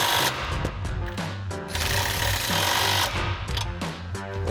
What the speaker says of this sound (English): We'll grab our 13mm socket on our impact.